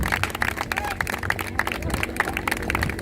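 Crowd applause for Soviet reenactors at the Whitby war weekend, a dense outdoor patter of many clapping hands with some crowd murmur throughout.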